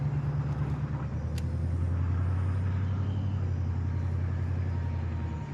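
Patrol vehicle driving in a video game, a steady loud low engine rumble and road roar running throughout with no break, alone without voices.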